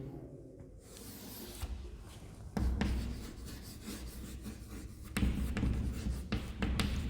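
A pen scratches formulas onto paper by hand, close and quiet, in short bursts of rubbing strokes separated by brief pauses.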